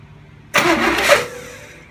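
A car engine cranks with a distributor rotor being set while wiring an MSD ignition box. It bursts in abruptly, whirs loudly for about a second, then fades.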